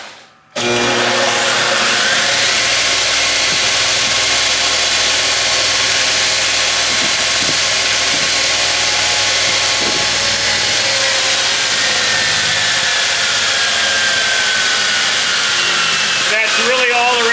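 A large sanding machine, a big stationary sander, whines loudly and steadily as it smooths the belly cut on a custom Iceman-style guitar body, the broadband roar running continuously after a brief start.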